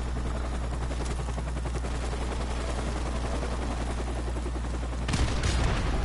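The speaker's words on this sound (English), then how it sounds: "Now we got a fucking chopper on us." Helicopter rotor drone mixed with steady rapid gunfire in the video game Call of Duty 4 Remastered, loud and continuous throughout, swelling briefly near the end.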